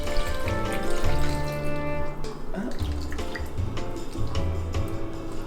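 Salt brine pours and splashes into jars packed with peppers for a fermented hot sauce, a steady wet trickle running continuously and up close.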